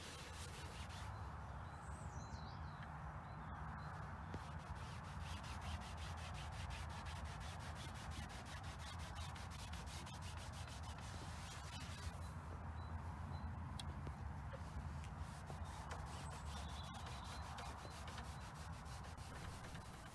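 Steady, even rubbing of Danish oil into a wooden table during an upcycling job, a close, continuous cloth-on-wood friction with no pauses and no talking.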